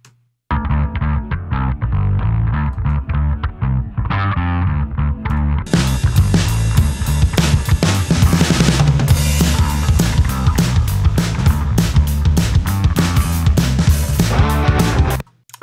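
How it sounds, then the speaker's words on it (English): A gritty, distorted bass guitar plays a thick riff, joined partway through by fuller band instrumentation, loud and continuous. "it's just a really cool, I think, vintage-y sounding bass tone"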